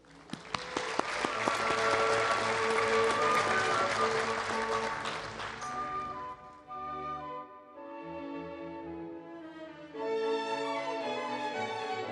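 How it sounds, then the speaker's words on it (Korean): An audience at a 2004 Korean forum on population aging applauds in welcome of the economy minister, a dense, loud burst of clapping over music that fades after about six seconds while the music carries on alone. "모두 환영의 박수 부탁드리겠습니다"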